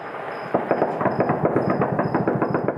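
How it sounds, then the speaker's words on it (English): Rapid, irregular bursts of celebratory gunfire crackle continuously from a moderate distance in Afghanistan, shots overlapping in quick succession with a faint tone above. "Gunfire ringing out, hailing the Taliban victory"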